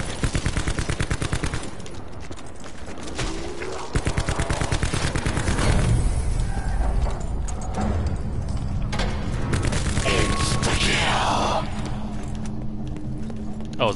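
Rapid automatic gunfire from Black Ops 4 Zombies rattles on in dense, continuous bursts with steady shot rhythm, loud and close, with brief talk now and then.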